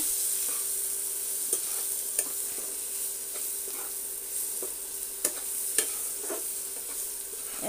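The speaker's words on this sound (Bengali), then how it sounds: "তো দিয়ে দেবো আমি লবণ হলুদ মরিচ এবার ভালোভাবে একটু ভেজে নেব" Fish masala frying with salt, turmeric and chili for a fish curry, a steady hiss of sizzling oil with occasional light scrapes and taps as it is stirred.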